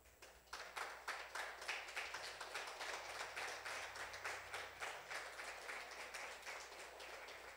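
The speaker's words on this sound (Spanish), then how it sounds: "Denle un aplauso al Señor." A church congregation applauding during a service, sustained rhythmic clapping from many hands that rises quickly, holds steady, and is heard from some distance.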